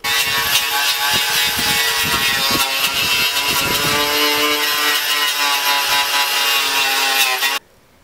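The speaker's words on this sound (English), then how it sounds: "Now this wire wheel on the grinder here is pretty brutal" An angle grinder fitted with a wire wheel scrubs rust spots on a Ford Transit van, a loud continuous harsh whine and rasp that stops abruptly near the end.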